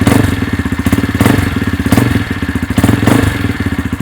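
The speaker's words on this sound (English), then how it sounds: "Now it does have a custom Akrapovic exhaust, which should make it sound a bit" Single-cylinder engine of a 2005 Derbi Senda 125R motorcycle fitted with a custom Akrapovic exhaust, running close by with a steady throbbing idle and rhythmic swells of revving, alone without talk.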